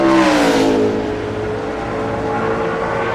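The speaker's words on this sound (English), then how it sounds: "Hear him on the rev limiter getting into 3." A NASCAR Sprint Cup stock car in qualifying at Phoenix in 2010 screams loudly at high revs near the rev limiter, its pitch dropping slightly and then holding a steady, droning roar.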